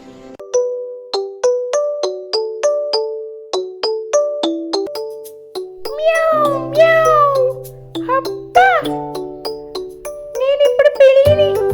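A cartoon cat gives a few drawn-out, rising and falling meows, almost certainly voiced by a performer, set against a bright, chiming melody of evenly spaced ding-like notes.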